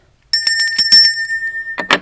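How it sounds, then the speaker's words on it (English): A small handheld bell used during a tarot reading rings out with a few quick bright strikes, then a sustained clear tone that fades, followed by a couple more rapid jingles close to the microphone. "I'm also using this bell"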